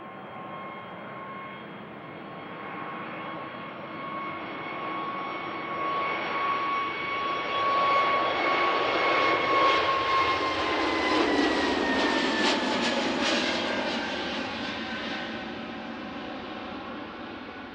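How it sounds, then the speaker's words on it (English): An Aer Lingus Airbus A320 departs from Schiphol's runway 36L bound for Dublin, its jet whine and roar building from a distance to a peak, then fading away. "now we have the Aer Lingus A320 going to Dublin"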